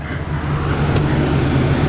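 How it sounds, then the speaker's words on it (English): A diesel four-door pickup truck engine rumbles nearby, a steady low, loud drone with a throaty idle character and no talk over it. "Oh, it's diesel, listen to that."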